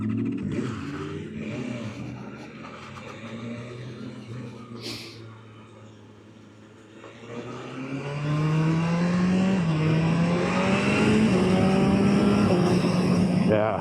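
A BMW R1300GS motorcycle engine on a test ride, first a steady running drone, then rising revs through the gears, growing louder with audible induction noise and wind.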